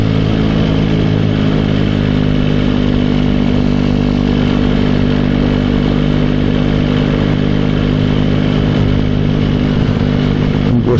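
A motorcycle cruises along a road at a 30 limit, its engine a steady, loud mid-pitched drone with wind and road rumble running unbroken throughout, no voices heard.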